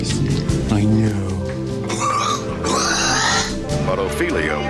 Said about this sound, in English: America chose a pig named Ophelia to play with the house guests